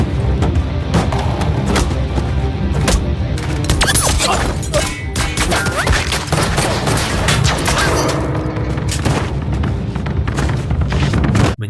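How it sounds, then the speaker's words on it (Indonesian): Dense gunfire from a gangster film shootout, rapid overlapping shots and bursts with booms and shattering, loud and continuous throughout with no speech. "Taegu dan Jaeyeon yang baru saja pulang dari rumah sakit terkejut melihat baku tembak ini."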